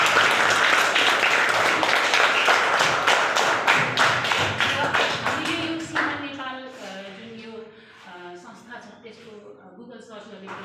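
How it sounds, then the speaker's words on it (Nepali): Audience applause at an orphanage support gathering in Tokha, Nepal: loud, dense clapping for several seconds that thins into scattered claps and fades, followed by quieter tonal sounds. "उहाँको लागि एकदम ताली मनैदेखि"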